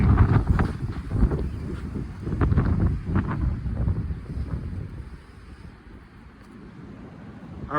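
Strong gusting wind buffets an outdoor microphone, with a broad rushing roar that swells and eases in waves, loudest early and dropping lower toward the end.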